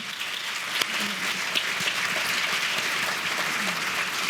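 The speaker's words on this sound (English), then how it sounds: "can we all give them a round of applause, even though they're not here?" Steady applause from an audience at a human rights award ceremony fills the room, a dense continuous clapping at even loudness from start to finish with no voices over it.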